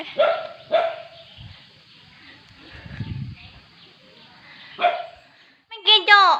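A dog barks several times nearby, loud and spaced out, with quiet moments between and a few higher yips near the end.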